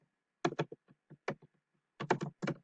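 Bursts of quick keystrokes on a computer keyboard while a Python program is typed, clustered in short rapid runs with brief pauses between, close and clear with no talk.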